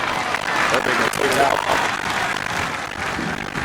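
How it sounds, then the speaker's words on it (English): Crowd applause and cheering in the stands at a college men's soccer match between Virginia Tech and Virginia, a steady broad wash of sound throughout with a commentator talking over it. "Good crowd on here tonight."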